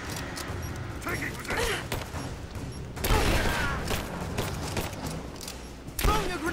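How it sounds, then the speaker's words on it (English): A grenade is thrown and blasts in Rise of the Tomb Raider combat, with a heavy burst around mid-clip and another late hit amid ongoing game gunfire and clatter, a voice speaking over it. "Throwing a grenade."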